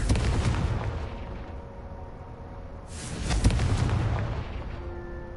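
In Hogwarts Legacy, Confringo spells blast candelabras with two loud, booming explosive bursts, each fading into a rumbling roar, close and heavy.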